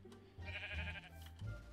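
Sheep in the video game Minecraft bleat at close range, with two or three short, nasal calls over a soft background hum, in a nighttime game scene.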